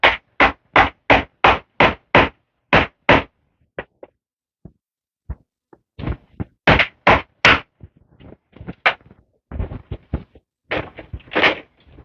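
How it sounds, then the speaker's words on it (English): Loud, close hammer strikes ring out while a seedling shelf is put together: a fast, even series of blows, a pause with a few light taps, then another irregular volley of hits. "put you through my hammering again"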